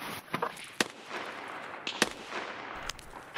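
Gunfire in a shooter game with an ADAR 2-15 and SAG AK-545 loadout: scattered sharp cracks, a few single shots and short bursts, sounding somewhat distant and quiet, aimed at another player with no talking over them.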